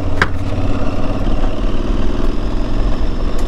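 An Aprilia Tuareg 660 motorcycle engine drones steadily and loudly while the bike is ridden on rough off-road trails, a continuous low rumble with wind and no talk.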